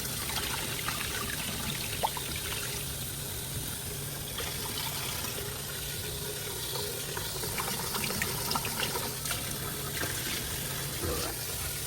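Water runs steadily into a pot of rice being prepared for a family barbecue platter, a continuous close trickling and splashing pour that holds at an even level for the whole stretch without talking.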